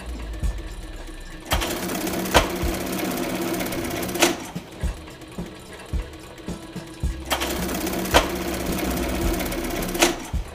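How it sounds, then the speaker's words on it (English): Heavy-duty bar tack machine stitching a thick denim jeans belt loop, its rapid mechanical stitching running in two loud bursts with clunks and thuds between, no talk. "this is called a bar tack machine. Basically what this is for reinforcing things"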